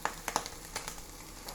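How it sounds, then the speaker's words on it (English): Ham fries in a hot pan on high heat, a faint, soft sizzle with a few small pops and crackles over a quiet background. "So that's frying, that will get crisp."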